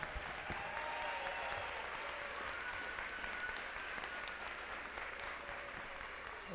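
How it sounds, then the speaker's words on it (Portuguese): Steady applause from a large audience at a university graduation ceremony in Goiás, continuous and dense throughout with no clear breaks, heard from within the hall. "fiquem de pé também para receber uma salva de palmas de todos nós"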